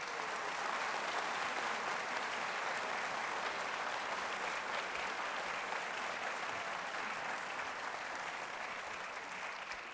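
An audience at a Veterans Day commemoration applauds a high school wind ensemble with dense, sustained clapping that carries on evenly throughout, loud and without voices.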